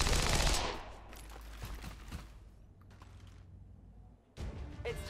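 A gunshot in XCOM 2 opens with a loud sharp burst, followed by quieter mechanical clatter and a second burst near the end.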